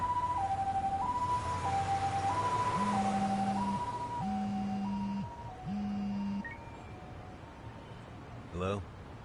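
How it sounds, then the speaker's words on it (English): An ambulance siren in the Last Judgment video game wails in a steady two-tone cycle, loud and close, before cutting out near the end. "Can you get an ambulance over to your bar right away?"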